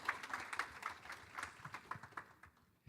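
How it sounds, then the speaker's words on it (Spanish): A church congregation applauds, a soft, scattered patter of hand claps lasting about two and a half seconds before fading out, heard faint and at a distance. "applause for them, please."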